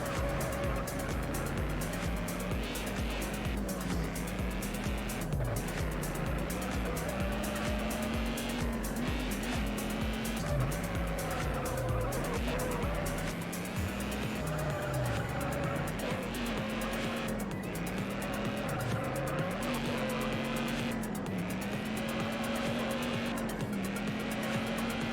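Race car engine in the video game Juiced, revving loudly and continuously with pitch sweeping up and down through gear shifts, tires squealing intermittently through corners.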